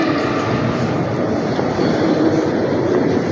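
A train rides through Saint Petersburg, giving a loud, continuous rushing rumble of carriage and track noise with no distinct breaks.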